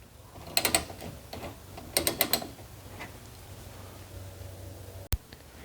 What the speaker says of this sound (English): To remove the bolt, insert the wrench and turn it counterclockwise.